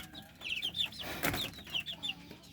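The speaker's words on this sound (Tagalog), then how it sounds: "Kawawa yung manok natin mga tropa" Free-range farm chickens clucking, a series of short, bright squawks repeating in an uneven rhythm, fairly close but quiet, with a brief rustling burst in the middle.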